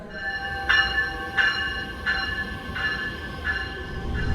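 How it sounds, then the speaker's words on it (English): An electric South Shore Line train rolls into a station with a steady metallic whine and a clanking beat that repeats about every two-thirds of a second, moderately loud. "the train arrives"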